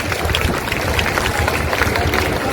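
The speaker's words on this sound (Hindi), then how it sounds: "तालियां तो बजाओगे, सुंदर बन रहा है तो" An audience at a political speech in Kalkaji claps steadily, a dense, even patter of many hands filling the space without pause for a couple of seconds.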